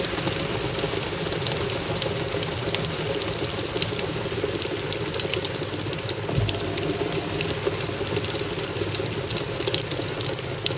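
A Hoover 1400 washing machine fills with water on a permanent press cycle, with a steady hiss of inflowing water and a continuous churning mechanical hum as the drum pulses, close and moderately loud, with no voices.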